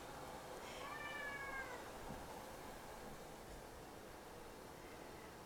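A pet cat meows once in a short, rising call near the start, fairly close, over a steady background hiss in a kitchen during cucumber pickling.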